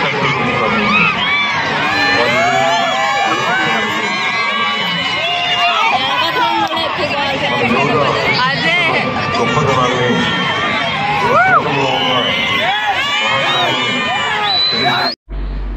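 A large crowd of children shouts and cheers loudly and continuously at an outdoor Yoga Day celebration on Visakhapatnam's beach road as a politician's speech begins, with a voice talking over the din.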